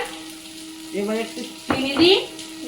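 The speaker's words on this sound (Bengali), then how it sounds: "মশলা কষিয়ে নাও" Spice paste for a fish roe curry sizzling and being stirred in a pan, with a short burst of frying and a scrape or two of the spoon, heard close with faint voices in the background.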